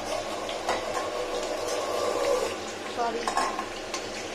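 Large chunks of potato fry in hot oil in a Bengali home kitchen, a steady sizzle with stirring and the odd scrape of a utensil against the pan, and a voice speaks briefly.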